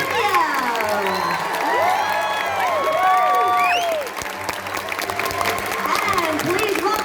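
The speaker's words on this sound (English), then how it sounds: "Give them a round of applause" Loud applause and cheering from a comic convention crowd at a Q&A panel, with shouts and whoops rising over steady clapping throughout.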